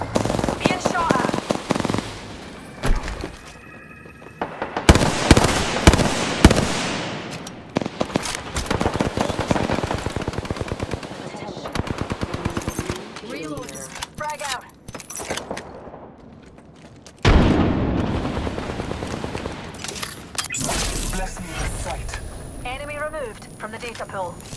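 Bursts of gunfire and explosive pops from the video game Apex Legends ring out repeatedly in loud, busy volleys, mixed with game voice lines and effects throughout.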